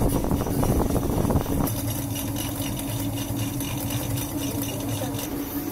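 A Granovsky honey extractor spinning with a steady motorised whir and hum. It starts with a brief rougher, rattling stretch and then settles into an even mechanical drone, close and loud, with no talk.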